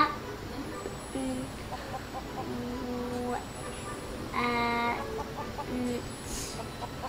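Chickens clucking in the Lego Worlds video game, a run of short, tonal clucks and squawks in bursts over a steady game background hiss, with no one talking.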